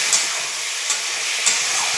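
Green chili, ginger and onion paste with a little tomato frying in a pan, giving a steady soft sizzle and hiss throughout with a few faint stirring clicks, close and moderately loud.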